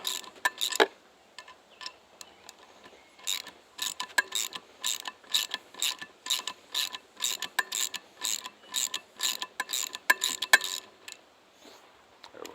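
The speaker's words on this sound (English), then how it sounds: "now I can go ahead and take my nut off" A ratchet wrench loosens a nut on a cylinder head stud, giving rapid, close clicking bursts in a steady back-and-forth rhythm with short pauses between strokes.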